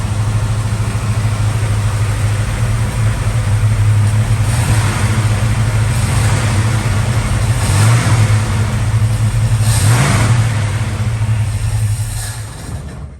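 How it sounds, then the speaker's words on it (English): A Valiant Charger engine runs loud and steady with no choke, a deep rumbling idle that swells now and then as if revved slightly, suffering from a large vacuum leak; no voices. "Just doesn't look like running without choke, which means it's got a massive freaking vacuum leak on it."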